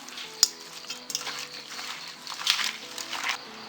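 Masala mixture for Paragon hotel-style leghorn chicken dum biryani is stirred in a pot, with close scraping and a soft sizzle punctuated by a few sharp metal clanks of the spoon.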